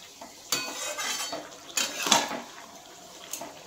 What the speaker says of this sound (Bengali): এবার আমি মাছটা ঢেলে দিলাম, মাছটা দিয়ে আমি ভালো করে এটা নেড়ে দেব।